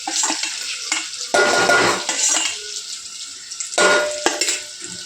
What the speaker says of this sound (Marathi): तेल आपलं तापलं. आता याच्यात आपण तो मसाला टाकायचा आहे.